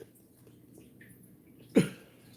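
A single short, sharp cough bursts out near the end against a quiet, faintly murmuring room.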